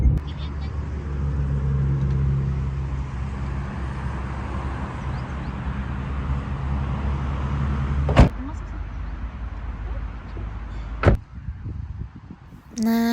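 Steady low engine and road rumble from inside a moving car, continuous under the cabin, with a couple of sharp clicks or thumps and a voice faintly present.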